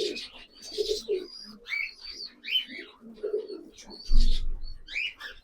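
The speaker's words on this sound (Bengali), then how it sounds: "গিরিবাজ পায়রা, কালো সবুজ।" Black-green Giribaz pigeons, including a young male, coo in repeated soft throaty bursts with brief chirps, close by in a loft, alone without talk.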